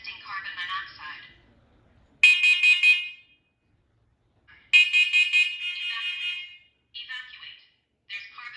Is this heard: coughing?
no